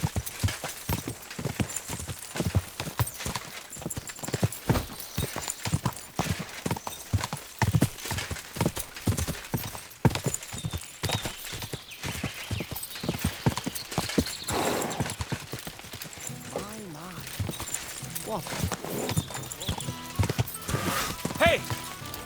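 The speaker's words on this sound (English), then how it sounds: "Your horse nearly trampled me." Rapid, steady clip-clop of horse hooves on hard ground in the video game Kingdom Come: Deliverance II, close and loud, with occasional voices and a horse whinny mixed in.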